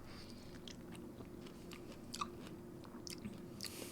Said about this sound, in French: Et du coup, voilà, après tu croques.